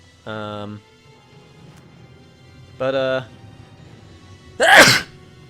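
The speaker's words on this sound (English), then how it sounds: "I had to sneeze very quickly" Two short, strained vocal 'ah' sounds build up before one loud, sharp sneeze bursts out close to the microphone.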